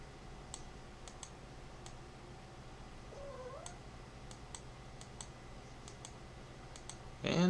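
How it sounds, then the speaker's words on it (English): A house cat meows briefly in a room with a computer, a short rising-falling call near the middle, amid scattered clicks and low steady hum, with a louder burst at the end. "And the cat's got to chime in."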